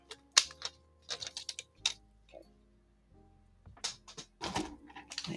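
An envelope punch board punching and creasing a 7.5-inch square of patterned paper, giving scattered sharp clicks and papery rustles in short bursts with quiet gaps, close and fairly soft.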